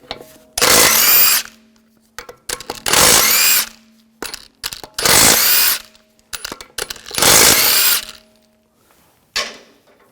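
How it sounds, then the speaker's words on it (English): A power tool with a 17mm socket removes lug bolts from a 2004-2009 Audi A4 Quattro wheel, four loud, close bursts of whirring drive, each about a second long, with clinks and handling noises between. "Using a 17mm socket, take the lug bolts off."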